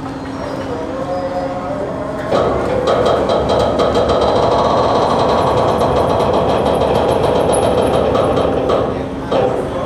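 The engine of the passenger launch Parabat 12 berthing at the Barisal river ghat gives a loud, steady mechanical drone and rumble with rhythmic knocking, close by, rising in intensity partway through and continuing to the end.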